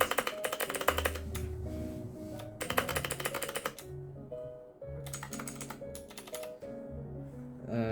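Machenike K600 blue-switch mechanical keyboard keys clatter in quick bursts of typing, with pauses between, close and crisp over a soft background of steady tones.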